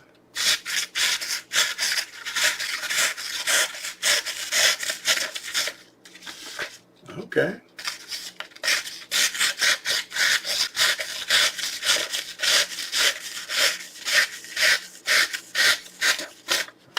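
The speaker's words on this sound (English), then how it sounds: "Let's go ahead and try it on some paper." A SOG Voodoo tomahawk slices through paper in quick, repeated rasping strokes, loud and close, with a brief pause partway through and one short spoken word.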